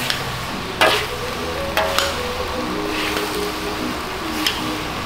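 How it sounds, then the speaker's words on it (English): Stir-fry cooking at an airport food stall in Jamaica, a steady broad sizzle with several sharp scraping clatters of a utensil against the pan, close and fairly loud, with no talking. "steamed it with a stir fry"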